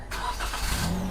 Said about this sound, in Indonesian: Tuh, itu mobil sudah tiba tuh ya.